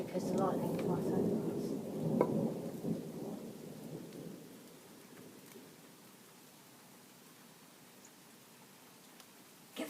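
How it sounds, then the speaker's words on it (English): Thunderstorm outdoors: a loud rolling thunder rumble over steady rain in the first few seconds fades to a quieter rain hiss, with a few faint voices nearby. "Oh, I love thunderstorms so much."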